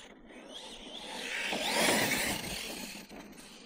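A Notorious RC car on a 6S battery drives past, its motor whine swelling to a peak and fading away again, alone with no talk.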